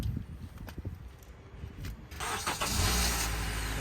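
A Honda Accord starts up, a quiet stretch of small clicks giving way to a sudden loud engine catch that settles into a steady idle.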